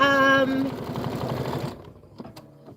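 A Kimberbell mini quilt block is stitched on an embroidery machine, its rapid rhythmic needle clatter running close and steady for most of the moment, then cutting out into near quiet with a few faint clicks; a voice talks over the stitching.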